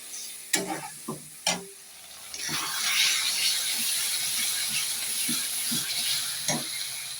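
Dried fish mash for shutki bhorta is stirred in a frying pan: a few sharp scrapes of the spoon at first, then a steady close sizzle with soft intermittent stirring knocks and no talk.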